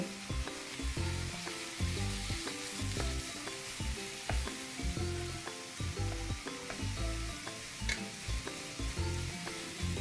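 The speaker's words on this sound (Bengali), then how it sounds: "এরপর ভেজে রাখা আলু দিয়ে আরও কিছু সময় ধরে আমি আলুটাকে কষিয়ে নেব" Fried potatoes sizzle and are stirred in a spiced masala in an egg curry, a steady loud frying hiss with regular scraping strokes throughout, a rhythmic background track underneath.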